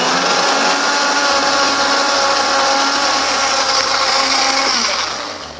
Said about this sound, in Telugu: ఇప్పుడు దీన్ని నేను బాగా మిక్సీ చేస్తున్నాను